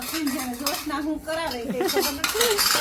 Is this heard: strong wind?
no